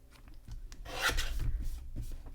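Scrapbook paper being trimmed by hand, a close rasping cut that swells in the middle and trails off, with no talking.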